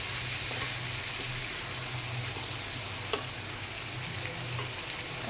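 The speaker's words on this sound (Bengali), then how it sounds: "আমি মাছের কাটা মেখে ভাজা দিয়ে নিয়েছি।" Rohu fish fries in hot oil with a steady, even sizzle and hiss that continues throughout, broken once by a faint clink.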